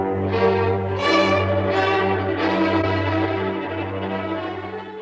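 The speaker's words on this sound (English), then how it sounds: "the bell was again upon the stroke of 1" A clock bell tolls in a quiet bedroom at night, a deep resonant stroke with long humming decay, followed by softer ringing swells that fade away.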